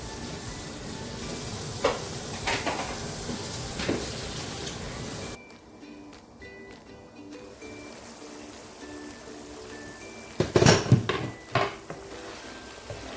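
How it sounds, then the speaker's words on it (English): Egusi soup seasoned with cayenne pepper simmers in a covered pot, giving a steady close sizzling, bubbling hiss that drops quieter midway, followed by a few sharp clanks of pot and lid near the end. "Cover for 2 minutes just to let it simmer."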